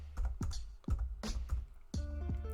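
Keystrokes on a computer keyboard, about half a dozen distinct close taps in an uneven rhythm, clear and fairly quiet with no talk.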